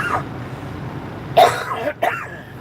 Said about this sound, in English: Got a dry cough.